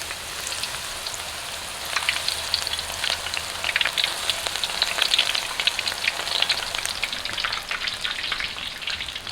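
Battered golden needle mushrooms frying in a pan of hot oil, a steady crackling sizzle with dense popping bubbles, close and continuous.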